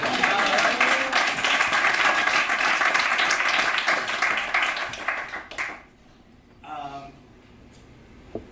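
Audience applause at a poetry slam feature set rings out as a dense burst of clapping that fades away after about five seconds, leaving near quiet with a brief voice speaking near the end.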